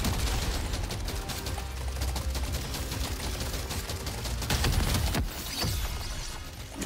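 Rapid machine gun fire rattles continuously in the video game Deep Rock Galactic Survivor, dense and loud throughout with game effects layered over it and no talking.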